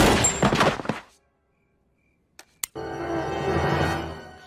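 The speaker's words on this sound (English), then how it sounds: "Mr. Griffin, you shot me!" A single sharp gunshot in an animated cartoon cracks out after a short silence, followed by a brief thud, loud and close with no talk over it.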